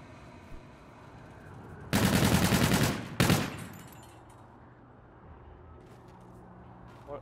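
Video game gunfire erupts in a loud rapid burst lasting about a second, followed by a shorter second burst, set against quiet game ambience with no talk during the shots.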